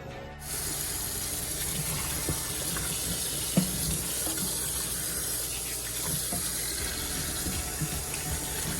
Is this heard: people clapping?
no